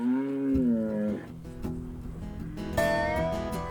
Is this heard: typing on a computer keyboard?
no